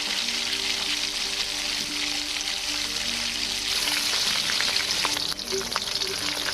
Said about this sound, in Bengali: এখানে পেঁয়াজটা বেশ ভালোই নরম হয়ে গেছে, আমি এবারে ফুল চিংড়িগুলো দিয়ে দেবো।